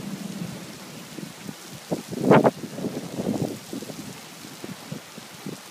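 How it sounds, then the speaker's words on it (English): Heavy rain pours down in a steady wash, with a louder burst of surging downpour or rumble in the middle before settling back to an even patter. "It's pouring, it's raining."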